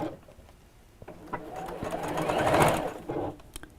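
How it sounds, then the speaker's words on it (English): Sewing machine stitching quilt sashing strips together for a quilted pouch, a close, steady mechanical whir that speeds up and swells mid-way before easing off, with a few faint clicks around it. "just bear with me while I sew these together"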